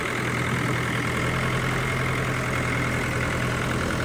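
A Mahindra 475 tractor engine idles quietly, producing a steady, even hum with no change in rhythm, set against continuous broadband noise.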